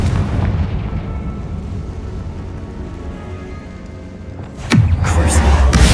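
A Confringo fire spell blast in the Hogwarts Legacy video game: a loud, sudden explosive boom near the end, with a rumbling tail, after a stretch of low, steady game ambience.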